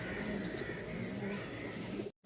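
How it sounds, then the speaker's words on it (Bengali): Pigeons cooing close by in a home loft where birds are kept for sale, soft repeated low coos over a murmur of background voices before the sound cuts out. "ভালো কোয়ালিটির 2 পিস কবুতর আছে।"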